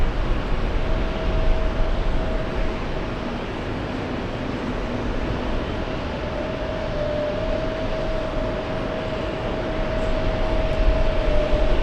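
A plane takes off from runway 31L at JFK, a steady, broad jet roar that holds at a constant level throughout, with a faint sustained hum under the noise.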